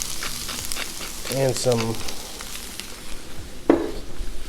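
Chicken sears on a Blackstone flat-top griddle with a steady, close sizzle and hiss that runs throughout. A brief voice cuts in, and there is a single clink near the end.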